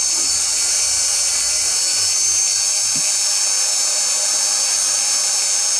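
A rotary tool spins a fine silicone polishing wheel against a riveted metal hinge, a steady high-pitched whine held throughout, close and fairly loud, with no voices.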